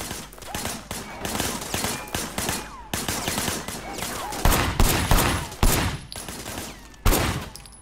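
Steady rapid gunfire fills the stretch while shooting from cover in the Sleeping Dogs video game, with dense continuous volleys and a few heavier blasts standing out, loud and close.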